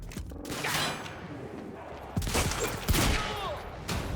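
Heavy pistol shots ring out in the video game Quantum Break, a handful of loud, sharp cracks spaced unevenly over a few seconds, close by amid rumbling destruction and no speech.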